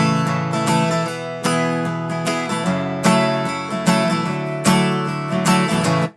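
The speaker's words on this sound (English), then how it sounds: "strum the bass strings down on the treble strings, down on the bass strings" Acoustic guitar strumming chords, alternating bass-string and treble-string strokes in a steady boom-chick rhythm, close and loud with no talk.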